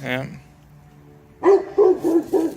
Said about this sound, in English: Violet's barking at basically everything.